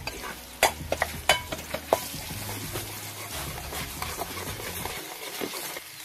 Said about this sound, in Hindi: जंगली सब्जी हल्का सा फ्राई कर लेता है पहले